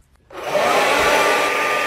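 A hair dryer switches on abruptly and blows with a steady, loud whooshing hiss and a faint motor whine, close by and alone with no voices.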